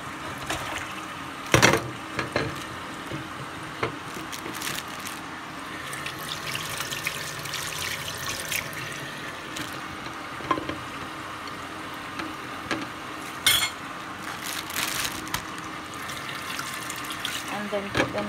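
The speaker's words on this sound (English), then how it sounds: "So I got the carrot. Now I'm just going to wash them" Carrots rinsed under a running kitchen tap, a steady close splash of water with brief louder bursts as they are handled, lasting throughout.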